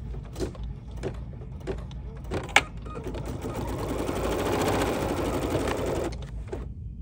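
A sewing machine stitches red appliqué pieces onto a quilt block with a steady mechanical whir, loud and close, and a few sharp clicks from handling before the run.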